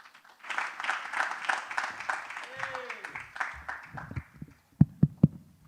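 Audience applause at a youth entrepreneurship forum in Kazan, a moderate burst of clapping that tapers off, with a voice and a few low thumps near the end.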